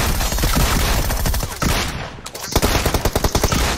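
Rapid, loud gunfire bursts from the mobile battle royale game BGMI, shotgun blasts mixed with fast repeated shots in a dense, continuous barrage, with a short lull midway before another sharp flurry.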